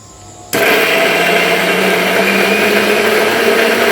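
Kitchen blender grinding soaked dal with ginger and garlic into a paste: the motor kicks in abruptly after a moment of quiet, then runs as a loud, steady, close whirring grind.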